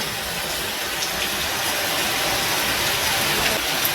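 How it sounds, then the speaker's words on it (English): Heavy rain pours down steadily at a homestay in Vietnam, a loud, dense and unbroken hiss close by with no voices. "it started pouring super heavy."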